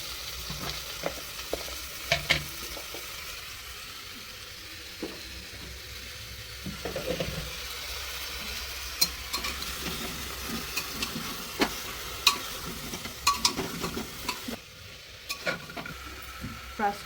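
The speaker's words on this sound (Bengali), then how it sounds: "এবার দিচ্ছি সবজিগুলো দিয়ে একটু নাড়িয়ে চাড়িয়ে নেবো।" Vegetables are stirred in a sizzling pan for chicken stew, a soft frying hiss broken by scattered utensil scrapes and clicks against the pan.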